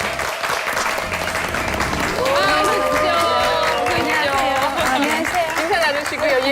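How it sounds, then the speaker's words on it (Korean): Studio audience applauding to welcome a guest onto a Korean talk show, sustained clapping and light cheering over the whole stretch, with a host's voice talking over it. "이수정 선생님 박수로 맞이해보도록 하겠습니다"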